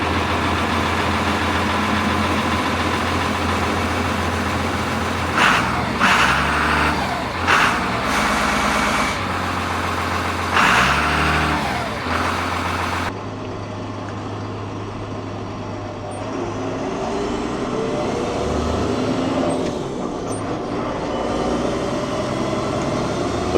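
An engine fitted with a newly fabricated exhaust fires up and idles steadily with a low, loud rumble, a few sharper revs partway through, then a continued idle with a changed tone near the end.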